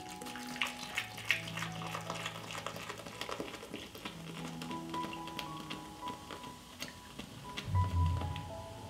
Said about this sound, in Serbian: U šerpu sipam pivo.